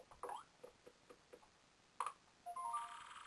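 In Paper Mario: The Thousand-Year Door, a new email notification sounds as a faint series of small ticks, then a bright chime and a short rising pinging jingle near the end, with no talking.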